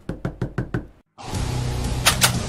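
Knocking on a door in a scary package-delivery video game: five loud, sharp, evenly spaced knocks, a brief silence, then a dense burst of noisy game sound.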